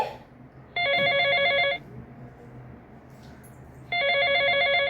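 A telephone rings in two electronic trilling bursts, each about a second long with a pause between, loud and clear over a quiet room with no talk.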